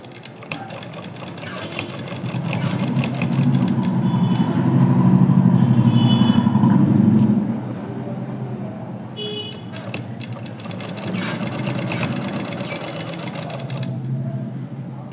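A sewing machine stitches a zip onto a readymade lehenga, its motor running in a steady, close, whirring hum that swells and then eases a little partway through.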